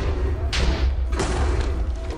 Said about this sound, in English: Ooh, early explosions. Lava bolts all around.